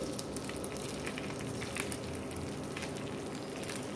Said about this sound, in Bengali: সামান্য অয়েল দিয়ে এটা ঘুরিয়ে নিব। এরপর অ্যাড করে দেব চালগুলি।